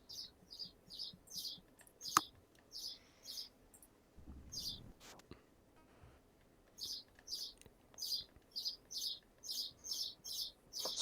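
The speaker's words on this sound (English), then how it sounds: "There's a finch outside the window where my computer is," A finch outside a window near a computer chirps in quick, bright bursts of repeated tweets, clustered in groups with a quiet gap in the middle, fairly close and clear against a hushed room.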